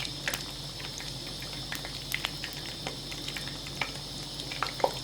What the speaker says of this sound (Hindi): अब इसके अंदर हम छोटे छोटे पकोड़े इसके अंदर डालेंगे।